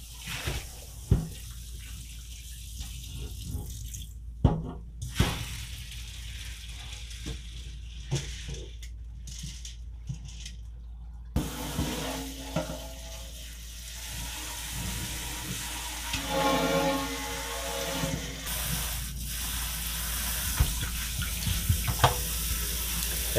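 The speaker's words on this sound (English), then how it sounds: "At this point too, as I'm rinsing, you know, I'll kind of move the grain around" Mushroom spawn grain being rinsed under a running tap, water pouring steadily into the grain with occasional clatter and stirring as it is moved around, moderately close and with no talking.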